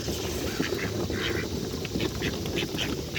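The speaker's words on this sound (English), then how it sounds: "Seagulls." Seagulls calling outdoors, a series of short bright cries repeating at intervals over steady wind and water-like background noise, with no talk.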